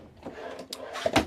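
A kitchen drawer in a 2023 Thor Compass AWD Class B+ RV slides open or shut with a short wooden knock near the end, close by and moderately loud over a faint room background.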